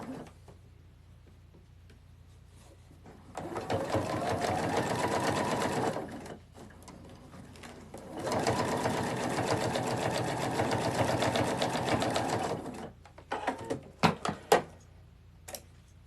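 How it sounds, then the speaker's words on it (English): A sewing machine top stitches the edge of a needlepoint stocking ornament in two steady bursts of rapid mechanical whirring, each several seconds long and close by, followed by a few light handling clicks. "So I'm just going to top stitch this."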